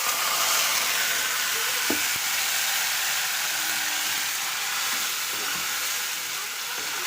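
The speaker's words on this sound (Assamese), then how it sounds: "তেলখিনিত এতিয়া মই এই পেষ্টটো দি দিম" Spice paste sizzling in hot oil for a paneer dish, a steady loud hiss with a few soft clinks of stirring and no talking.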